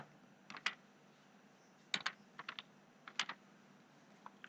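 Computer keys click in short, irregular clusters, crisp and close against a quiet background, while someone types text into an Excel spreadsheet.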